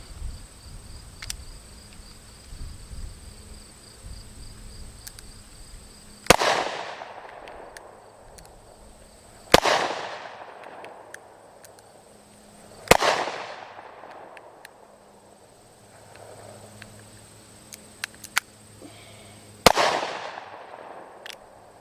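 S333 Thunderstruck revolver firing outdoors, four loud sharp shots spaced a few seconds apart, each with a trailing echo, against quiet background with faint insect chirping.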